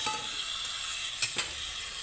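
Crushed onion and a garlic, chili and ginger paste sizzle steadily in a hot pan, a continuous close frying hiss with a couple of brief stirring scrapes.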